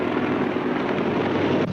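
Helicopter in flight, a steady broadband rotor and engine drone holding at a constant loud level for nearly two seconds, then briefly dipping near the end; no voices.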